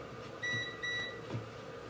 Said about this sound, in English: gonna turn off the timer.